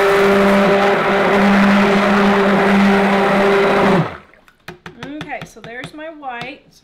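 A loud motorized blender whirring runs steadily for several seconds while mixing for a zucchini cake, then cuts off abruptly and a person begins talking.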